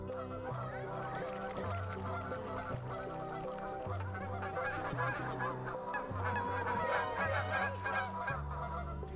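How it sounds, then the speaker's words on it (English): A flock of geese and ducks honking continuously along the Columbia Slough, many overlapping calls in a noisy, busy chorus at moderate distance. "It was just noise, noise, noise from all the ducks and geese."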